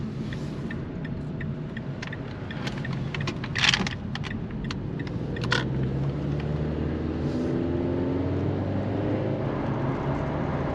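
A 2010 Mazda 3 driving on a road, heard from inside as a steady low rumble of road and engine noise with a few brief light clicks and rattles near the middle.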